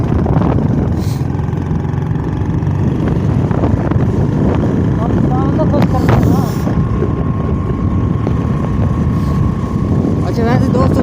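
A motorcycle runs along a road with a continuous loud, rumbling engine drone and strong wind buffeting the microphone, while someone talks over it.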